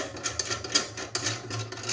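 A plastic boat rod holder being repeatedly opened and closed, giving quick rubbing, rasping clicks in a fairly steady rhythm, close and fairly quiet.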